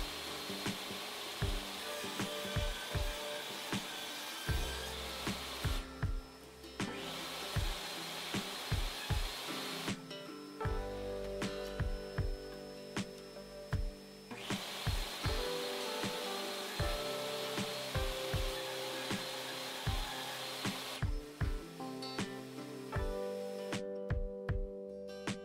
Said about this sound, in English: made multiple passes through the table saw to achieve the required width